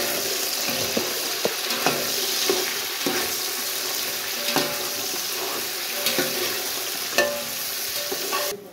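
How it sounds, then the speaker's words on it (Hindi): Chopped carrots and potatoes tossed into a pot with whole spices like black pepper, cardamom, cinnamon and cloves, sizzling and frying steadily with repeated clinks and stirring knocks, close and fairly loud. "तो ये डाल दिए हैं गाजरें और आलू मैंने काट के रख लिए थे।"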